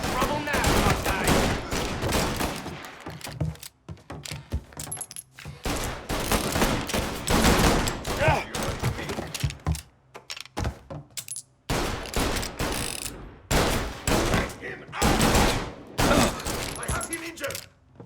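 Rapid bursts of gunfire from the game Mafia: Definitive Edition come in loud repeated volleys with short gaps, while voices talk over the shooting.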